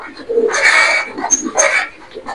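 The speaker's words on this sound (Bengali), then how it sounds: "এখানে আছে এগুলা হোয়াইট রেসার কবুতর" White racer pigeons at a pigeon farm, giving a few close, throaty coos and rustling, with bursts of nearby noise between calls.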